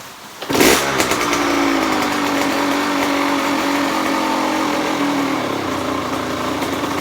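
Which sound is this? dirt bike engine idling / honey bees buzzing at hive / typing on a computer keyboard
dirt bike engine idling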